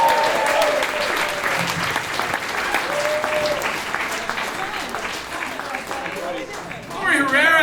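A brewery audience at a comedy show claps and cheers in a dense, sustained burst that ebbs slightly, then swells again at the end, while people talk and call out over it.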